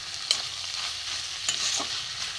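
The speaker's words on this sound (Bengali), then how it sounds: "বন্ধুরা ভালো করে নেড়ে চেড়ে আমি একটু এতে জল দেবো না, চাপা দিয়ে দিলাম" Ash gourd pieces with a hilsa fish head frying in a little oil, a steady hissing sizzle up close with a couple of brief stirring scrapes and no voices.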